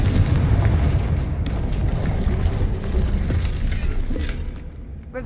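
Blasting-curse explosion from the Hogwarts Legacy video game, a loud booming rumble that starts at once and rolls on with dense crackling debris for several seconds before tapering slightly.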